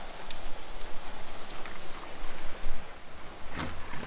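Steady rain falling and pattering on surfaces in Isabela, Puerto Rico, a dense continuous hiss with scattered louder drops, no voices.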